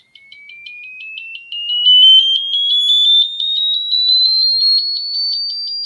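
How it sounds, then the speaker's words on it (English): A buzzer sounds a single continuous electronic tone that glides steadily upward in pitch over about six seconds, loud and clear with no other sounds around it. "every time you set a new frequency, the buzzer takes some time to respond"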